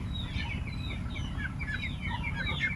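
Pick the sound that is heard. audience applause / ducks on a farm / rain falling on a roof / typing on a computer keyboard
ducks on a farm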